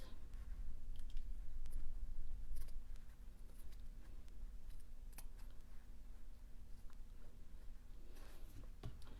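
Scissors snip fabric ears for a no-sew sock bunny stuffed with batting, producing scattered close, quiet clicks and cuts at irregular intervals over a steady low room hum.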